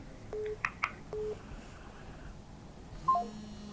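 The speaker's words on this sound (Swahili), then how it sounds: "Kuna simu nyingine inaingia hapo, ipokee." Telephone line tones from a call-in broadcast sound out: two flat sustained beeps with short chirps between them, a quiet stretch, then a final pair of brief higher beeps.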